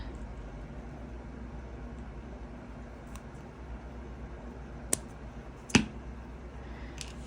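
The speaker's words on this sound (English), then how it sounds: "Let's trim it with some flush cutters" Flush cutters snip jewelry wire in two or three sharp, isolated clicks against a quiet steady background hum, with no talk.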